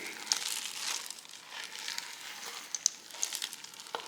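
Semi-sweet chocolate chips are stirred into cookie dough with soft, quiet, crinkly scraping and a few faint clicks scattered throughout.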